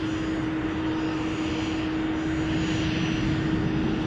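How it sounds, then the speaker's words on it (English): An Air France Boeing 777-300 landing on runway 28 right at San Francisco, a steady, loud jet engine roar with a constant tonal hum, unbroken and without speech. "This is flight 84, Air France 84."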